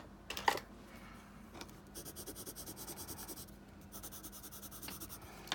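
Soft, rhythmic scratching of a colored pencil across paper, close and quiet, with a few brief louder strokes.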